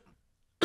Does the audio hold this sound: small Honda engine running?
no